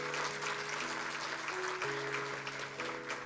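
A church congregation applauds at a year-end Sunday service honoring a retiring member, producing dense, steady clapping throughout with a faint tonal hum beneath.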